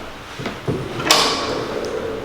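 A pocket door in the foyer of a Caribbean-influenced New Orleans hotel slides shut, a soft thud followed by a brief rolling rush and a light knock as it seats, heard nearby in a quiet room.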